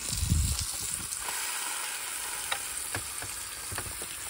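Steak sizzles steadily in a pan inside a small camper kitchen, a close, continuous frying hiss with a brief low thump at the start and scattered faint pops throughout.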